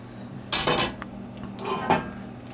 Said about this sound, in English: Now I'm going to go ahead and scoop out a nice bowl full.